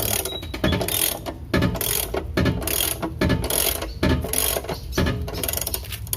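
A ratchet wrench turns a car jack in repeated bursts of close, loud clicking, about six evenly spaced strokes with brief pauses between them, and no voices.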